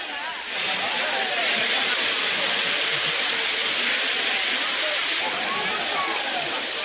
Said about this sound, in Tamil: அவர்கள் ஜில்லென்று கொட்டும் அருவி நீரில் குளித்து மகிழ்கின்றனர்.